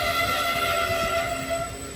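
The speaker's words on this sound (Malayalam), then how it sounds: "അവരുടെ ട്രെയിൻ എത്തിയിട്ടുണ്ട്" A train pulls into a station with a steady metallic whine and hum, moderately distant and continuous, with no voices over it.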